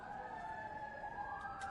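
Emergency vehicle sirens wail faintly in the distance outside a courthouse, a thin rising and falling tone over low street background.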